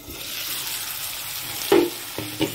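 Steady close sizzling of hyacinth beans frying in a pan, with a couple of brief stirring scrapes near the end.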